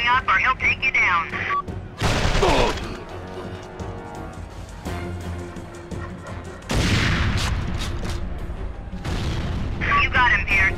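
Gunfire in the PS2 video game Secret Service: repeated loud booms and bursts of shots, some bunched into heavy volleys, mixed with game voices and background action.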